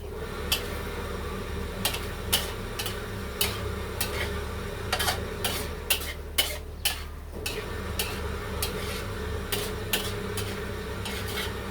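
Spring onions being stir-fried in a pan, a steady low sizzle with repeated sharp scraping and clinking taps of a utensil against the pan at an uneven rhythm, close and moderately loud with no talk.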